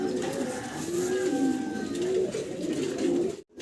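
White Bombay pigeons coo close by in a loft, a continuous rolling chorus of low throaty warbles with faint background noise and a brief dropout near the end.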